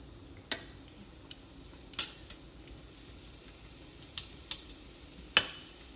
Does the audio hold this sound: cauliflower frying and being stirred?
yes